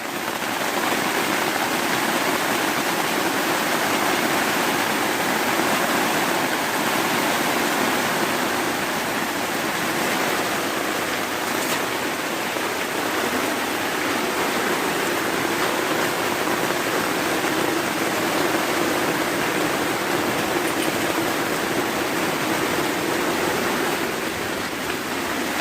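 Steady rain pours in a continuous, even wash of hiss and patter, loud and unbroken for the whole stretch with no voices.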